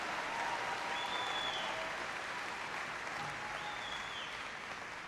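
An audience at a Los Angeles town hall applauds the senators, a steady, fairly distant wash of many hands clapping, fading slightly toward the end.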